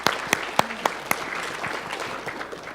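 A crowd claps at a company conference event, with sharp individual claps standing out early and then settling into steady, moderately close applause with no talking.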